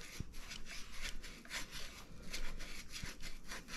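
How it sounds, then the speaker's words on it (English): High-grit sandpaper rubbed on a rusty brake boss of a 1989 Specialized Stumpjumper mountain bike, giving quiet, close scratchy strokes in a quick back-and-forth rhythm, with a couple of small taps. "So just taking some high grit sandpaper to the boss, I'm gonna do the same to this and just clean it up."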